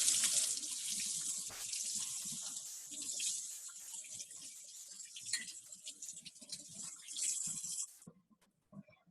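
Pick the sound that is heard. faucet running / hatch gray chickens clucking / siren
faucet running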